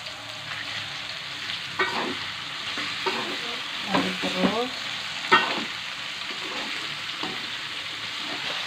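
Peeled shrimp are stir-fried in a pan for shrimp and green bean fried noodles, a steady sizzle with intermittent scraping and clattering stir strokes close by; no talking.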